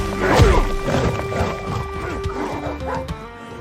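Monster dogs being smashed in an animated drama: a loud crashing impact near the start, followed by a dense run of thuds, whacks and yelping cries that carries on steadily to the end.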